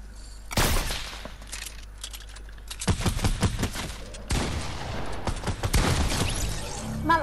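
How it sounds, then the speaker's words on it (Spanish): Gunfire in Fortnite: sharp volleys of rapid shots ring out close and loud, in several separate bursts with short pauses between them. "Me disparan por todos lados."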